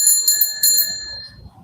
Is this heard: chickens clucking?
no